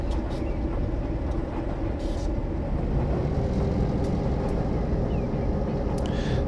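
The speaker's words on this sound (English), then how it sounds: "driving this train" A train in the Train Simulator 2020 video game rolls through a town, giving a steady, loud, continuous rumble with faint high rattles on top and no talk.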